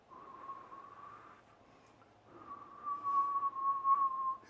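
A person whistles a steady, sustained tone while blowing over hot miso soup, two long breathy whistles with a short pause between, up close and with no talk.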